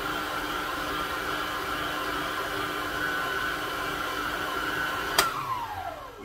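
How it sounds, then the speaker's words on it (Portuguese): An electric mixer whirs at a steady pitch while beating pistachio cake batter, a continuous close motor hum that winds down abruptly near the end when it is switched off. "Desliga a batedeira."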